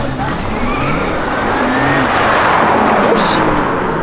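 A BMW engine roars loudly and steadily for the whole stretch, a car revving hard close by on a street, with a faint voice mixed in.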